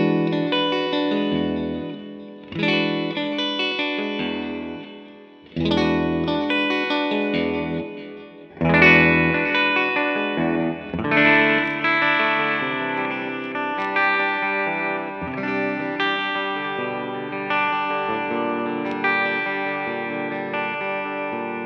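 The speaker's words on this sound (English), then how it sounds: "These humbuckers are fatter sounding, which is kind of what a lot of people want from a humbucker" A Harley Benton electric guitar played clean through its humbucker pickups, strummed chords ringing out with chorus and reverb, a few separate attacks then sustained, layered strumming.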